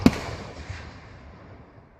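A single sharp firework burst cracks at night, followed by a long, fading rumble and crackle that dies away over two seconds, with no voices.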